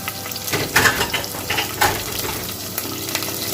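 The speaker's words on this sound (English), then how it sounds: "I'm gonna give that a stir." Bay leaves, cloves, cardamom pods and small cinnamon stick pieces frying in oil over high heat, sizzling steadily while a utensil stirs and scrapes the pan in a few distinct strokes, close up with no talking.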